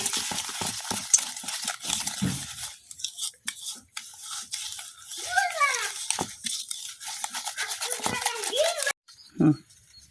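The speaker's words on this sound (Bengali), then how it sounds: "এখন চিনিটার সাথে ডিমটা খুব ভালোভাবে মিশাই নিলাম" Egg and sugar stirred together in a bowl for a village-style fried rice-flour and wheat pitha batter, a steady scraping and swishing rhythm that comes and goes, with a voice talking over parts of it.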